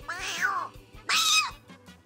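A person imitates a cat, giving two drawn-out, falling meows in quick succession, each sounding nearby and clear with a short pause between them.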